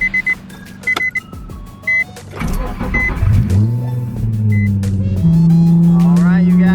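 A Nissan 350Z starts up and drives off: a few sharp clicks and brief bursts first, then the engine catches and settles into a loud, steady low rumble, with a voice briefly heard over it.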